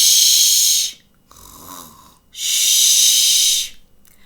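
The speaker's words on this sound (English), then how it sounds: "Princess Marge was naturally the loudest snoring dragon." A dragon princess in a fairy-tale kingdom snores loudly: two long, breathy, hissing snores, close and alone, separated by a short quieter breath.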